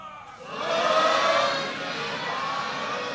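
A Sikh congregation at Takhat Sri Harimandir Ji Patna Sahib shouts a jaikara together, a broad swelling roar of many voices that rises quickly, peaks, then holds as a sustained crowd sound.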